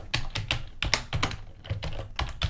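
Fast typing on a computer keyboard during 3D modeling work, a close, busy patter of key clicks with a few heavier strokes, steady throughout with no talk.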